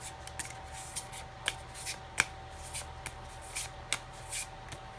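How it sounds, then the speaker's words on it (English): Tarot cards are shuffled by hand in a quiet room, with a series of soft, crisp riffling snaps and flicks at irregular intervals, close and fairly faint. "So let us shuffle a bit more here for you."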